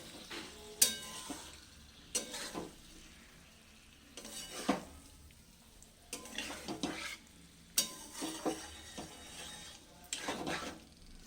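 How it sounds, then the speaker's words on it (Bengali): Cauliflower being stirred slowly in a pot for a vegetarian dish, giving soft intermittent scraping and clinking bursts every second or two over a quiet low background. "এরকম করে আস্তে আস্তে একটু নাড়তে হবে নয়তো ফুলকপিগুলো একদম মানে ঘেটে যাবে"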